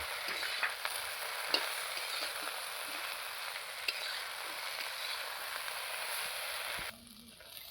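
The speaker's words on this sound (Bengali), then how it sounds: "দেখুন কচুরলতি আর কাঁঠালের বীজ একটু ভালো করে ভেজে নিয়েছি।" Taro stolons and jackfruit seeds fry in a pan with a steady, close sizzle and occasional stirring scrapes, continuing without talk until the sizzle drops off sharply near the end.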